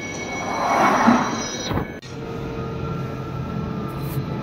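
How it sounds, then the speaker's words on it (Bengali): A London Underground train runs with a steady broadband rumble and rail hiss, a brief louder swell of rolling noise early on, then an even sustained drone of carriage motion with faint tonal whine. "আমি আমার এই জুয়ের ট্রেনে উঠে গেছি"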